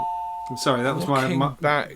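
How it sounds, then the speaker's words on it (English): A doorbell chimes once with a clear sustained tone in a home, quickly followed by a person speaking close by. "That was my doorbell."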